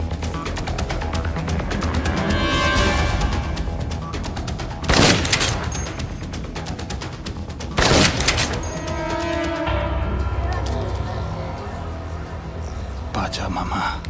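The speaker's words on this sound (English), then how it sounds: "Someone's shooting from the floor above." Gunfire from the floor above in the video game Dead Rising, with loud bursts of shots breaking through a dense, noisy backdrop while voices talk.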